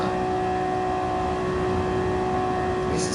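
A Nissan GT-R NISMO '17 supercar engine drones steadily under acceleration during a Super Car Race in Gran Turismo Sport on PlayStation 4, a constant loud tonal whine and roar with no talk.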